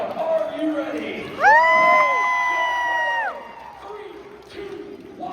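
A crowd cheers and shouts at a loader-and-driver relay competition in Spanishburg, West Virginia. A loud, sustained shout or whoop rises over the steady crowd noise midway through, then the cheering settles back to a lower roar.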